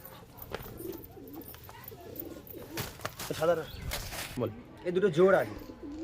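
Pigeons in a loft coo softly in short bursts beneath someone talking nearby, with occasional rustling and wing movement.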